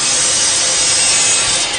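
Hand saw cutting through wood during first-responder rescue training in a derelict high school, a loud continuous rasping stroke close by with no talk.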